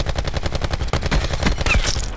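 Rapid automatic gunfire in the video game Call of Duty: Black Ops 4, a dense continuous burst of fast, evenly spaced shots, loud and close, with a brief gap near the middle.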